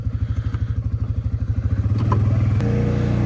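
A Yamaha 700 ATV engine with an uncorked Whiskey Bent exhaust, straight blow-through, pulses in a steady low idle and then rises into a louder, smoother rev, close and alone.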